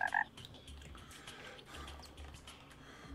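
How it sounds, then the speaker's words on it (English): Frogs croaking in the jungle biome of the video game Terraria, a low repeated croaking under game ambience with a brief louder chirp at the start. "There's frogs in my jungle biome."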